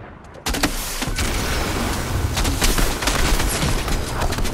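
A firecracker gun in Fortnite fires a loud, rapid burst of crackling pops that starts abruptly after a brief quiet moment and continues densely for several seconds, like a string of exploding firecrackers.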